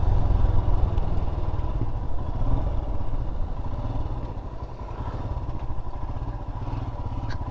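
A Royal Enfield Himalayan motorcycle rides off-road, its engine thudding steadily and close throughout with a rough, even mechanical drone and some clatter, no voices over it.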